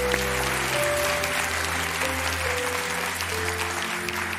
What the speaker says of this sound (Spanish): El público de hoy le hemos pedido que viniera para darles este aplauso a los de casa.